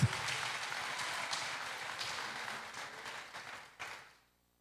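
Congregation applauding in church, a steady broadband wash of many hands clapping that fades out near the end, moderately loud and without talk.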